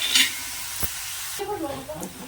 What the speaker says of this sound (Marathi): आता हा कांदा आपल्याला चांगला भाजून घेऊया